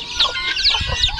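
Chickens cluck close by among mixed farm poultry such as guinea fowl, ducks, geese and turkeys, several short overlapping calls in a quick burst with no talking.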